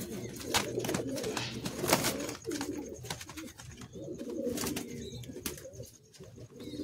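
Madrasi high-flying pigeons in a Kolkata loft coo in soft, repeated throaty calls, near and overlapping, mixed with rustling and wing flutters and some faint background voices.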